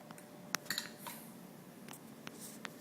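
Metal spoon scraping and tapping against a bowl while spreading whipped cream into a meringue shell, a few light clinks and soft scrapes spaced out, close and quiet.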